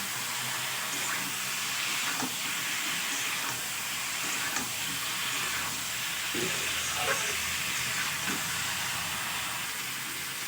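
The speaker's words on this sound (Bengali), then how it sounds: "এবার আমি পরিমাণ মতো জল দিয়ে দেব" Water poured into a pan where chopped tomato, potato and eggplant are frying for a village-style fish curry, giving a steady, loud hiss and sizzle with a few sharper crackles throughout.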